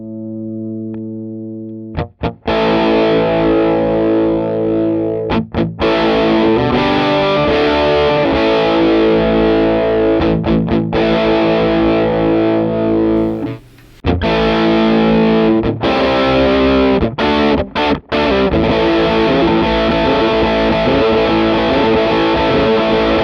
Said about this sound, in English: You can feel the guitar just opening up and being just louder and having more gain than it had before.